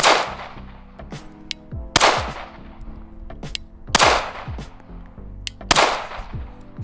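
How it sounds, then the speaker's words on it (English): Glock pistol fitted with a Printz compensator, fired one-handed: about five sharp, loud shots at uneven intervals of roughly a second or more, each with a bright crack and a short ringing decay, no talking. "let me showcase how nice and pleasant the comp is shooting it one-handed"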